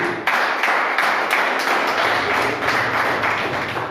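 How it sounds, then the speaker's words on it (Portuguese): Congregation clapping together during an evangelical church service, a fairly loud, continuous burst of hand claps with a rough rhythmic pulse and little talk above it. "As palmas para Jesus."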